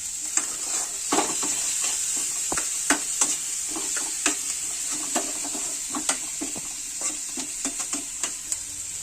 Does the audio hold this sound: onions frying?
yes